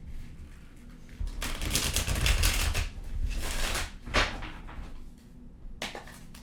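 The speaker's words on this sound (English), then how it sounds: "I just wanted to make sure I shuffle really good since those cards came out twice" Tarot cards being shuffled by hand in bursts of crisp riffling and flicking, close and fairly quiet, with short pauses between rounds and no talking.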